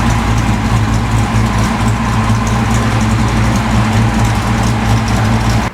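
Steady engine idle of a vehicle raised with wheels off and no load, running to splash fresh 75W-90 gear oil around a Ford 8.8 Traction-Lok rear axle; constant low hum continues unbroken throughout.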